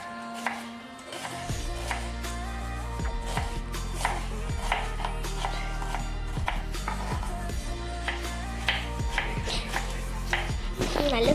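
Onions being chopped with a knife, a quick run of sharp, close taps on a board at a steady rhythm that continues throughout, with a faint voice in the background.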